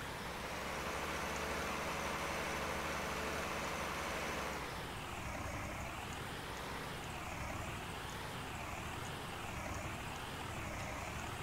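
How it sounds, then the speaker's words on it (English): A farm tractor engine runs near hay baling work, a loud continuous drone whose pitch steps down partway through, then wavers up and down as the revs change. "So this is a pretty good all-around tractor"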